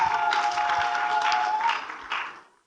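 A crowd at a live gospel concert claps heartily, a thick sustained round of applause with a faint steady tone beneath it, then the clapping thins and dies away to silence.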